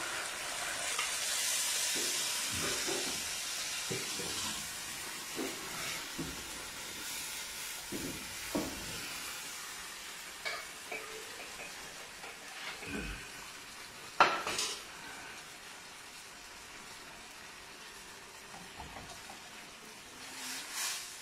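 A hot pot of spicy green tomato broth with mojarra fish, Tierra Caliente style, comes to a fast boil with a steady hiss and bubbling, plus a few sharp clinks of cookware.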